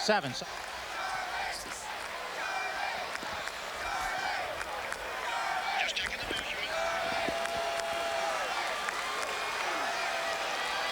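A broad, steady roar from a stadium crowd at a 1993 Florida versus Florida State college football game, a distant wash of noise running throughout with faint thuds, and a commentator's voice over it.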